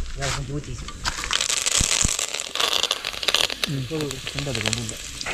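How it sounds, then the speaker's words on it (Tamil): Curry leaves hit hot oil while prawn gravy is being made, giving a loud, close sizzle with crackling spits and stirring. A person talks over the frying throughout. "கருவேப்பிலை கொஞ்சம் போட்டுக்குவோம்"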